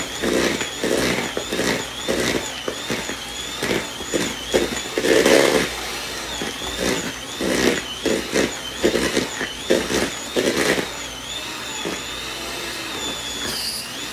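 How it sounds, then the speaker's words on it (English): A small electric hand mixer runs fast through snowball cookie dough with pecans, a steady whirring motor whine with rhythmic bumps and scrapes of the beaters against the bowl, close and without talk. "now I'm gonna hope I don't burn my little mixer up"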